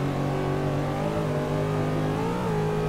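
A BMW drifts through a curve in Forza Motorsport 6 on a Rio de Janeiro course, its engine holding a loud, steady, buzzy note that wavers and climbs slightly near the end, with no talk.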